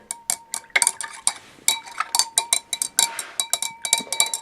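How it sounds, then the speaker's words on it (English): Stirring an iodine reaction mixture, a utensil clinking sharply against a glass vessel in a quick, fairly regular series of bright ringing taps, close and alone. "give it a stir"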